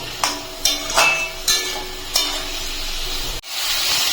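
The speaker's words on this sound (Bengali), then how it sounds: "আমি একটু কষিয়ে নেব।" Spices and fried bitter gourd sizzle and hiss in a hot pan while a utensil scrapes and clanks against the metal every second or so, ending with a sudden sharp cut.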